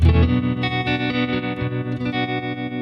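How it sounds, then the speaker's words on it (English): Electric guitar chords sustain through an amp with a steady vibrato, the tone pulsing and wavering rhythmically. "Let's turn on the vibrato."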